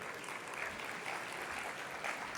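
Conference audience applauding a speaker called to the stage at a French real-estate event, a steady, even wash of many hands clapping, fairly faint and distant, with no talking.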